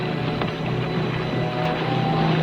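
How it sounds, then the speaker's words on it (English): A boat engine drones steadily and loudly at sea, a continuous low rumble with wind and water noise, holding fairly constant without a clear rise. "We heard the sound of an engine."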